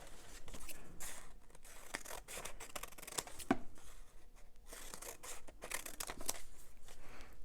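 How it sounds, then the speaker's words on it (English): Scissors cut across paper into strips, a quick series of close, crisp snips and rustles at an uneven rhythm, fairly quiet with no talk. "you're just going to cut all the way across so that you end up with strips of this paper"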